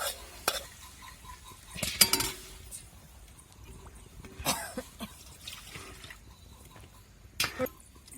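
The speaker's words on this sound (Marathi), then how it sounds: "सगळा मसाला परत नाका लगेच आपल्याला घुगऱ्या टाकून द्यायच्या" Boiled cowpeas stirred into spiced masala in a pan, with scraping and clinking of a spoon against the metal, a few sharp knocks and a faint sizzle; no talking.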